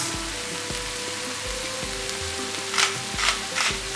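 Brussels sprouts and bacon frying in a pan over a raised gas flame, giving a steady close sizzle with a few louder crackling bursts and faint knocks from a rhythmic low thump.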